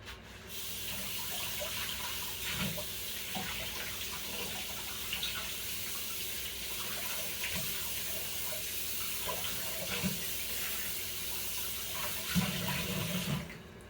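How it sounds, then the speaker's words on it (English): Warm water runs steadily from a tap into a sink while a work hat is soaked, a continuous splashing rush with small irregular spatters as the hat is moved under the stream. "Now I soak it with warm water."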